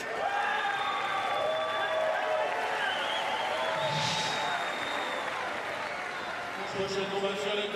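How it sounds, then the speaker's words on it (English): A crowd at a Paralympic judo bout cheers and applauds in a continuous roar with a swell partway through, heard under steady commentary. "you'll hear the crowd in a minute. They're just going to absolutely go wild"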